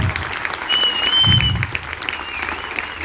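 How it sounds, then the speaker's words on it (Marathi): An audience at a Ganpati festival skit in a Pune housing society bursts into sustained, loud applause, dense clapping from a crowd with a faint whistle or tone and some voices mixed in. "जोरदार यांच्यासाठी टाळ्या वाजवायच्या आहेत"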